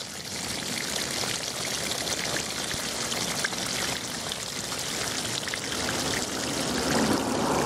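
Water pours out of a rice field in the Delta de l'Ebre wetlands, a loud, continuous, splashing flow heard close up and alone for the whole stretch.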